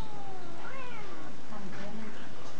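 A cat gives several rising meows while a monkey handles and tugs it, the cries fairly close over a noisy background with voices around.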